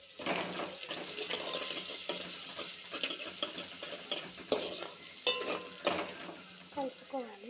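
Chicken curry with onions stirred in a pan, gentle sizzling with repeated spoon scrapes and clinks, fairly quiet and close, with a brief voice-like sound near the end.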